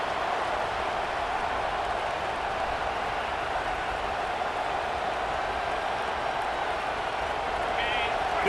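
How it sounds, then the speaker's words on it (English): Stadium crowd roar from an EA Sports football video game, a steady broadband wash of cheering that runs continuously and loud, with a commentator's voice talking over it. "This crowd bringing the energy and noise early."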